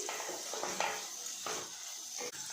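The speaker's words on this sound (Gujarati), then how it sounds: "હવે આપણે શાકભાજીના ભાગનું મીઠું નાખીશું અને બધું બરાબર મિક્સ કરી લઈશું" Vegetables for veg hakka noodles are stirred in a pan, with soft scraping strokes over a faint, steady sizzle.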